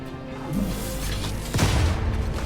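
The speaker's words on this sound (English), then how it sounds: "Explosion." An explosion in the video game The First Descendant, a low boom that swells midway and holds as a rumbling roar for the rest of the moment.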